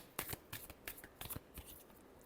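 Tarot cards are shuffled in a quick, faint series of soft papery riffles and flicks, close by, in a quiet room with no talking.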